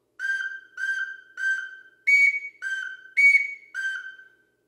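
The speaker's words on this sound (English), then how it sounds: "If I leave the hole open, I get that bright, airy whistle sound. If I cover it, it deepens the tone." A 5N1 duck call whistle sounds seven short, clean toots alone, mostly at one steady lower pitch with two brighter, higher notes where the hole is left open.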